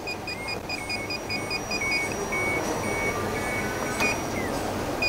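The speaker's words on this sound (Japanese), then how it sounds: "奥まで行って接触するとブザーにピピピピピという音で返ってきます。" A buzzer on an electric rail-mounted pesticide sprayer cart in a greenhouse gives a series of short, thin, repeated beeps over a steady background hum of machinery.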